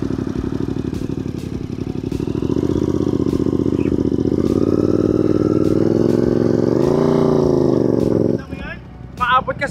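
An off-road enduro motorcycle revs in mud, its engine droning steadily loud for several seconds, rising briefly before cutting off abruptly, followed by a short clatter near the end.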